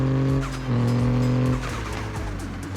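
Stock car fitted with a Burple exhaust in Car Parking Multiplayer, engine humming with smooth rises and dips in revs and a touch of tire scrub, close and steady with no voices.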